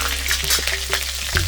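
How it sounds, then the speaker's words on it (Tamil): Mustard seeds, cumin and green and dried red chillies sizzling loudly in hot oil for sambar rice, a close, continuous frying hiss with small crackling pops, no talking. "கடுகும் ஜீரகமும் நல்லா பொரியட்டும்"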